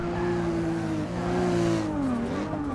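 A BMW race car in Forza Motorsport 6 at Sebring, hammering over the curbs: a loud, continuous engine whine holds steady, then its pitch dips and climbs again near the end as the car shifts and bounces.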